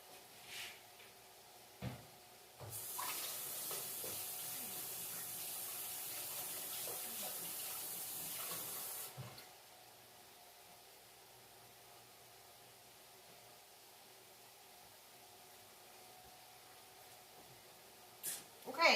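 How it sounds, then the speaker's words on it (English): A kitchen faucet runs steadily for about six seconds as hands are washed, a broad, even rush of water. A few clunks come before it, and quiet room noise and faint knocks follow once the tap is shut off. "I'm gonna go wash my hands to get the onions off"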